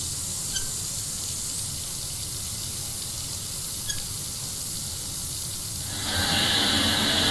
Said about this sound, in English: that's it, water going in now.